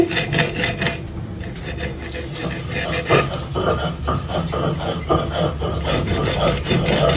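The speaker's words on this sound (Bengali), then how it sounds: "এখন বটি দিয়ে ঘষে ঘষে কাঁটাগুলো বটিয়ে ফেলবো" Falli fish flesh is rubbed and scraped back and forth across a boti blade to work out the bones, making a loud, steady rasping in quick repeated strokes throughout, with no talking.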